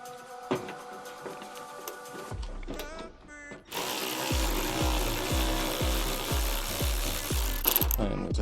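A power tool fitted with a 10mm socket undoes bolts on a car being prepped for painting at home. After a short pause it fires close-up in a fast, steady series of rattling impact bursts.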